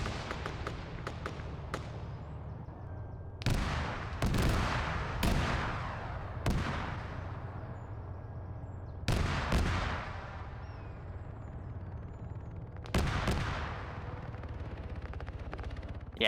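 Mortar rounds fire and impact in a military shooter battle, with loud booming blasts arriving in irregular bursts over constant background rumble of gunfire, several heavy thumps clustered close together and a final blast near the end.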